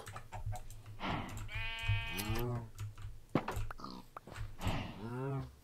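Several wavering Minecraft sheep bleats, close and clear, repeat over a few seconds with faint clicking and brief speech around them.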